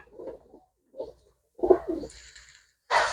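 Pigeons coo nearby in a few soft, low, throaty bursts separated by short pauses, with a brief rustle at the end.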